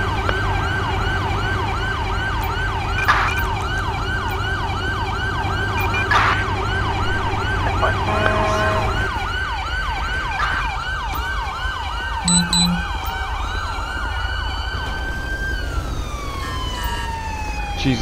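An ambulance siren in GTA V's LSPDFR mode wails in a steady, rapid rising-and-falling cycle over engine hum, staying loud and close before shifting into a slower tone and fading near the end.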